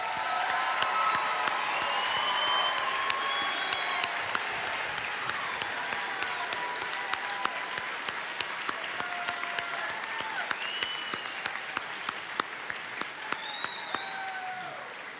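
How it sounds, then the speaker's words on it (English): A large audience at a basic academy class graduation claps steadily for the recruits, a dense, sustained round of applause that holds at an even level for the full stretch and thins slightly toward the end. "let's give all these recruits another round of applause"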